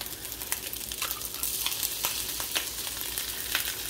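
Leftover white rice fries in oil in a pan with three eggs, making a steady hissing sizzle with scattered crackles and occasional stirring scrapes throughout.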